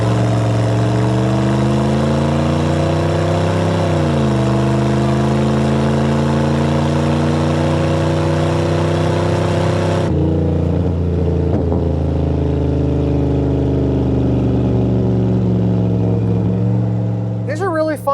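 A 1990 Chevrolet 454 SS pickup with its big-block 454 V8 drones loudly and steadily on a test drive, rising and easing in pitch through a turn, then settling into a smoother cruise with no talking.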